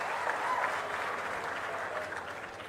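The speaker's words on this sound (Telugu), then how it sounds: "గట్టిగా చప్పట్లు కూడా అభినందించండి." An audience at a chief minister's political speech in Narsannapet applauds, a sustained wash of clapping from a crowd at moderate distance that carries evenly for a few seconds.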